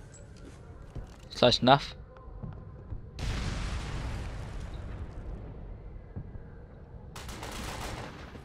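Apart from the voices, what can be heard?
grenade thrown and exploding in Ghost Recon Phantoms video game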